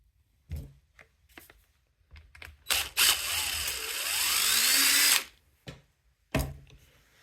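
Small power tool or driver whirring in short bursts and one sustained run while a Phillips screw is backed out of a Honda EX350 generator engine, close and fairly loud with quiet gaps between.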